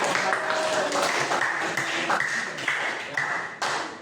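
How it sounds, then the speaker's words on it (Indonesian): A classroom of students claps for a classmate, with scattered, uneven clapping mixed with voices talking. "Oke, tepuk tangan dulu buat Rika yang sudah berani"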